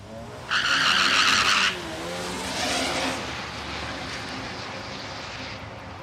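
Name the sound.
Chevrolet Silverado pickup truck drag racing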